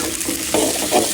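Tomato hits hot oil in a pan, a brief close sizzle with a couple of stirring scrapes, no talk.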